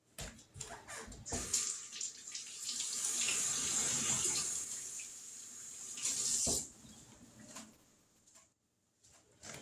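Tap water runs steadily into a kitchen sink as hands are washed beneath it, a close, continuous splashing hiss with a brief pause midway, no talk.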